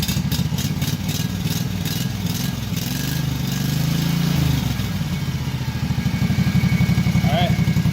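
Kawasaki FH series small engine revving up after a fix for loping, a loud continuous mid-pitched drone that swells in pitch then settles into a fast steady throb, with a person talking over it.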